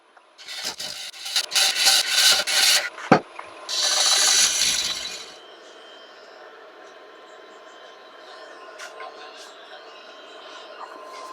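A lathe tool cuts a tenon on a wet walnut hollow form, making loud, close scraping and ratcheting bursts for about five seconds before fading to a low, steady machine hum.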